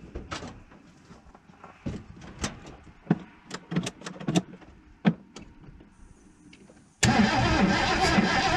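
A 1980 Ford Bronco, unstarted for 18 months with a sticking throttle, gives scattered clicks and cranking taps before the engine suddenly catches and roars to a steady, loud idle.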